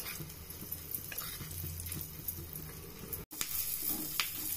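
Curry leaves and red chillies sizzling in hot oil, a steady faint crackling hiss with small pops, briefly cut silent before resuming.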